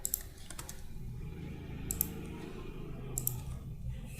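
Keys clacking on a computer keyboard while AutoCAD commands are typed and enter is pressed, a quiet scatter of crisp clicks with a few sharper taps standing out over low background hum.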